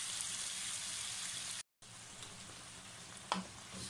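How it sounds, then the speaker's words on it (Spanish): Vegetables simmering in beef stock for a tomato sauce for spaghetti and meatballs, giving a soft, steady sizzle and bubbling close by, broken by a brief gap and a single clink near the end. "Seguimos cocinando nuestros vegetales para hacer esta exquisita salsa para nuestros espaguetis y las albóndigas de carne"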